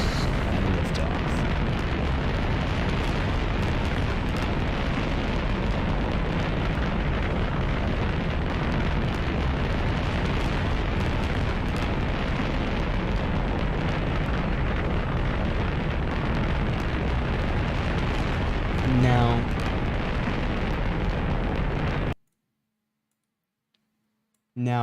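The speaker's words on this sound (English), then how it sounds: "Ignition and liftoff." A SpaceX Starship rocket launch: a loud, continuous crackling roar fills nearly the whole stretch, then cuts off abruptly to silence near the end.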